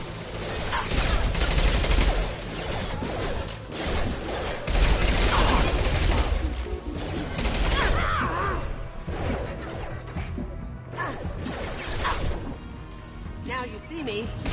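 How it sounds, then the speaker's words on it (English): Gunfire in Mass Effect Legendary Edition, dense loud bursts of shots and impacts in a sci-fi firefight, nearly continuous, with voices talking beneath the din. "Firing now."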